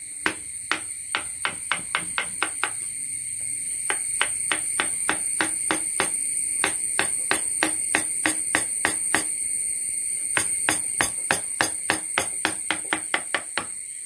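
A mallet drives a wood chisel along the grain in a carving cut, giving sharp knocks in quick clusters with short pauses. A thin, constant high buzz hangs in the background.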